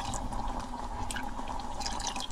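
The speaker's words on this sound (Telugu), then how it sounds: "ఆ కీమా మునిగేంత వరకు పోసుకోవాలి వాటర్" Water is poured over keema in a pressure cooker with a soft, steady trickle and dripping splashes. It is faint and continuous, with no voices.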